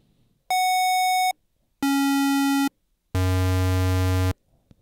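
Three sustained square-wave tones from a Korg MS2000 synthesizer, each stepping lower in pitch and growing buzzier and louder, separated by short silences.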